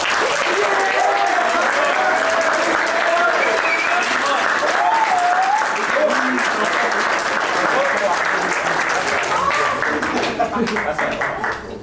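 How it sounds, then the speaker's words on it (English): A banquet audience gives sustained applause at a fraternity colony installation ceremony, with dense, loud clapping filling the room and a few voices calling out and chattering underneath before it starts to fade at the end. "Let's give them all a round of applause."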